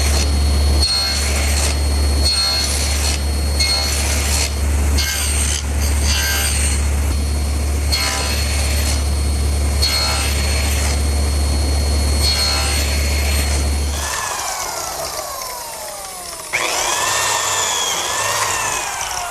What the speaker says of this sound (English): I've just finished cutting some slots in both side pieces for these compressed beechwood biscuits